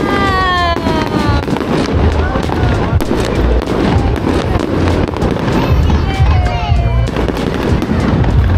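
Fireworks bang and crackle repeatedly in a dense, continuous barrage, with whistling rockets and people talking and exclaiming in the background.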